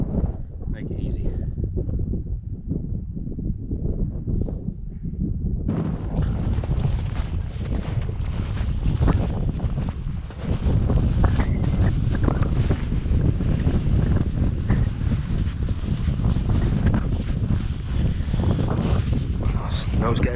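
Strong wind buffets the microphone on a snowy mountain pass in Snowdonia, a loud continuous roar that swells sharply partway through, with a voice speaking now and then under the gusts.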